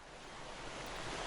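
Surf rolling onto a beach at Carita, Anyer, a steady broadband wash of waves with some wind, continuous and moderately close, no voices.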